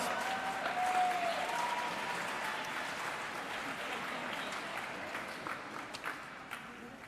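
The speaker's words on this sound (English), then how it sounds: "Please give the girls and their families a big round of applause." Applause from the audience at a girls' high school swimming meet, Jefferson versus Chanhassen, a steady wash of clapping from a crowd in a pool hall that holds for the whole stretch and slowly thins toward the end.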